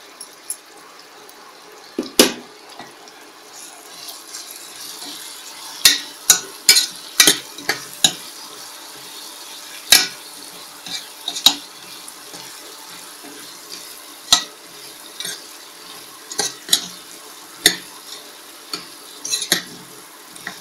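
Potato pieces frying in a pan for aloo bath, giving a low constant sizzle punctuated by sharp, irregular clacks and scrapes of a spoon stirring against the pan, close up and without voices.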